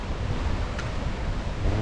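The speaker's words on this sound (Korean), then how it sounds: "상당히 파도가 세찬데요." Strong surf rolls in at Hua Hin beach, Thailand, before sunrise: a continuous roar of breaking waves mixed with gusty wind buffeting the microphone, close and steady, with no voices.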